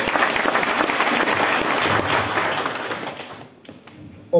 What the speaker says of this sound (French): Let us clap our hands to the Lord.